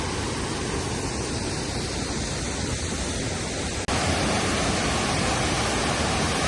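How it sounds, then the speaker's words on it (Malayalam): Harithirthankara waterfall in Kannur, a steady broadband rush of falling water, loud and continuous, with one brief click partway through and no voices. "ഇതാണ് നമ്മളെ ഹരിതീർത്ഥങ്കര വെള്ളച്ചാട്ടം"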